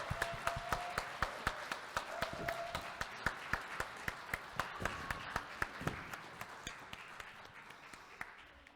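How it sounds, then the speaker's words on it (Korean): Members of a Korean church congregation clap together after a play performance, crisp unison claps in a steady rhythm of about two per second, with a light crowd murmur beneath, gradually fading toward the end. "박수 우리 치도록 하겠습니다"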